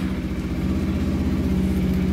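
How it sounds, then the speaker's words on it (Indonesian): Engine of a Honda Beat FI scooter running just after starting, a close, steady low putter at idle with an even pulsing rhythm throughout. "Oke, sekarang starter engine."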